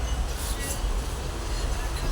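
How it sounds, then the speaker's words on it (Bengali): A train passes at a steady distance, its low rumble and rolling wheel noise holding evenly throughout, with a brief faint squeal near the start. "এই তার একটা ট্রেন গাড়ি দেখেছ?"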